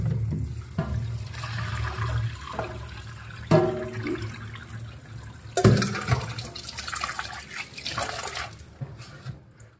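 Hot water from cooked vegetables poured off through a strainer, a close continuous splashing and gushing rush that swells and surges for several seconds, with no talking.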